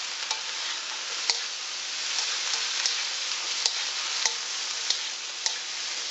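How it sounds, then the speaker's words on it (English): Vegetables with fresh cilantro sauté in sesame seed oil over medium-high heat, giving a steady bright sizzle with scattered sharp pops and ticks from stirring. "You're going to saute this for approximately 1 minute on a medium or high heating"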